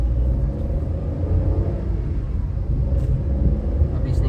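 A Suzuki car with an AGS automated manual gearbox drives on a main road, its engine rumbling steadily and loud throughout as it pulls through the gears, with no clear break at each shift.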